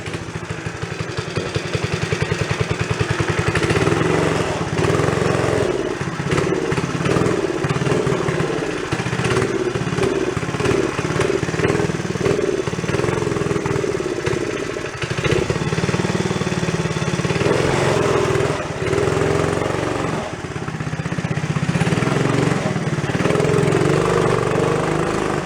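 Engine of a 50-year-old abandoned Rupp mini bike, running rough and loud with a steady clattering putter and uneven revs throughout.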